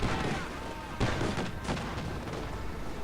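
Tank cannon fire in the World War II strategy game Company of Heroes 2, dull booming shots over a dense rumble of battle noise, with a voice talking over it.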